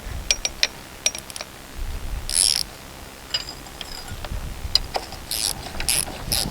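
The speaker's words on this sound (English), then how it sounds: "You ever have moments when you forget how a ratchet works?" A ratchet clicks in short bursts during repair work on the bucket cylinder of a Komatsu D31 dozer, with light metallic ticks and clanks against quiet background rumble.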